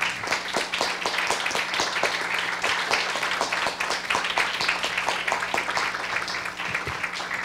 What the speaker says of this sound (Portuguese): nós dessemos uma outra salva de palmas aqui para todos eles